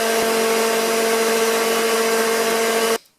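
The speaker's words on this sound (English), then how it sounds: "once that's all in the blender, you're gonna want to blend it" A kitchen blender whirs steadily as it blends coconut and Brazil nuts into homemade plant-based milk, a loud continuous motor drone that stops abruptly near the end.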